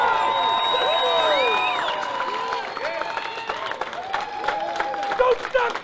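Large crowd cheering and applauding at a world record 800-pound bench press attempt in Chicago, a loud continuous roar with whoops and shouts throughout, voices calling out over the noise.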